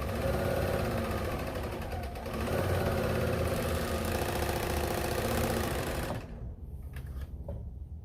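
A serger sewing machine runs steadily at close range with a fast, even mechanical whir for about six seconds, then stops and leaves only faint handling noises.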